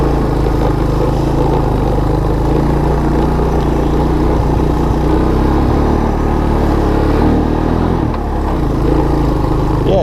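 A Honda ATC200ES three-wheeler with a trashed front end and little fuel runs steadily while being ridden, a loud, continuous close engine drone with slight variations in pitch and no talk.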